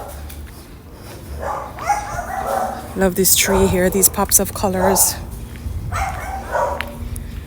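Dogs in a residential street of a Merida neighborhood bark in a burst of several quick, close yaps and whimpers, with a person talking over and around them.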